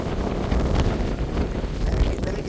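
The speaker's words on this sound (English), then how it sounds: "this is really windy" Strong wind buffets the microphone on a salt marsh nature trail in Brooklyn, a steady loud low rumble that surges and drops in gusts throughout, with no talk.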